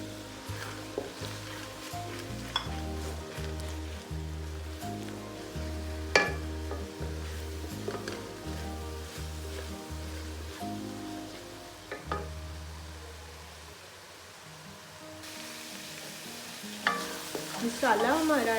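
Spices for chicken korma, turmeric, red chilli and a cinnamon stick among them, fry in a hot pan with a steady moderate sizzle, while a spoon stirs and scrapes in a regular rhythm; no one speaks.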